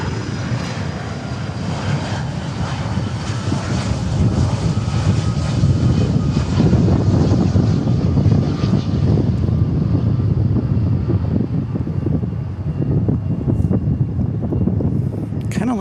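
A heavy jet airliner landing at Dallas Fort Worth Airport roars steadily and loudly throughout, with a broad engine rumble and some wind buffeting against the microphone.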